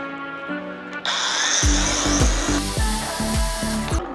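A GROSSER GAG 20 120N cordless angle grinder runs at its third speed setting, giving a loud steady motor whine with a few short rhythmic knocking pulses near the end.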